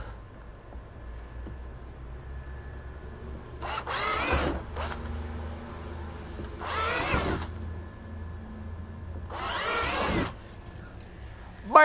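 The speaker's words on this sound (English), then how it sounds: "So we're going to grind out some holes." A power tool grinds holes into a kayak in three separate loud bursts of a few seconds each. Quieter stretches of low background hum fall between the bursts, and a brief squeak comes at the very end.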